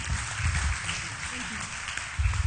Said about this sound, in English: So another warm round of applause, please, for Dr. Bio.